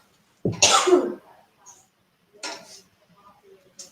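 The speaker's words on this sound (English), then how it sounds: "Bless you. Whoever sneezed." One sharp, close sneeze bursts out near the start, followed by a few faint clicks and soft murmurs in a quiet room.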